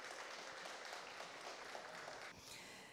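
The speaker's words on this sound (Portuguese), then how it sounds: "Uma salva de palmas também." An audience at a workshop's closing session applauds: a steady, dense wash of many hands clapping, fairly quiet and distant, holding evenly for about three seconds before thinning slightly at the end.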